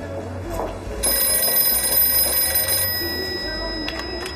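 A telephone rings in an indoor scene from a Chinese period detective drama, a bright bell-like tone sounding for a couple of seconds at moderate loudness over low room noise and voices.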